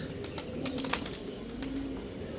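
Female Milli Gorra pigeon handled and released, with soft low cooing and faint wing rustles close by under steady background noise.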